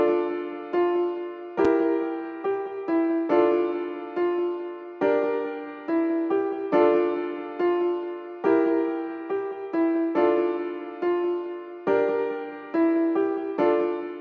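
A mellow piano melody for a drill beat made in BandLab, playing steady repeated chords and notes with a clean, even rhythm, alone and clearly upfront.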